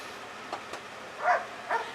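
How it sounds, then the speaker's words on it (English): Dog barking indoors behind a speaker, a few short muffled barks, moderately faint and spaced over two seconds, the last two louder. "You have to excuse my dog."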